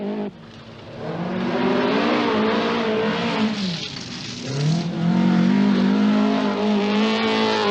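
A rear-wheel drive Talbot Sunbeam rally car's engine revving loud and close, its pitch climbing, dipping around the middle, then rising again to a sustained high drone with no voice over it.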